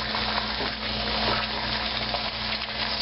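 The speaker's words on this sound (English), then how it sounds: "Pour some soy in," Soy sauce poured into a hot pan of frying eggs cooked in sesame oil for Japanese-style fried rice, giving a steady, close sizzle and crackle that holds through the whole stretch with no talk.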